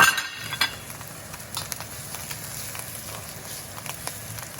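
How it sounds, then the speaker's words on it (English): Garlic, about a whole spoonful, singes in a little oil in a pan for crab and Chinese sausage egg fried rice, a soft, steady sizzle with a couple of faint clinks near the start and no talking. "Put some garlic. About a whole spoon. Just let it kind of singe. A little bit of oil."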